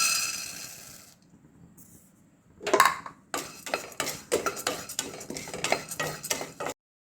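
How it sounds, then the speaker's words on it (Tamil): Roasted gram dal being dry-roasted and stirred in a metal pan, giving a run of close, quick scraping and clinking strokes of a spoon against the pan after a quiet start. "அடுத்ததாக நம்ம பொட்டுக்கடலையை வறுத்துக்கலாம்."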